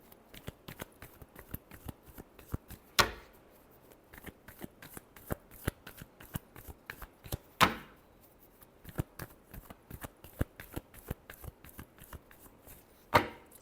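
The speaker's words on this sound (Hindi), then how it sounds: "लास्ट शफल, चलिए देखते हैं।" Tarot cards shuffled by hand, a rapid run of crisp close riffling flicks with a few louder slaps where the deck is squared, heard on their own.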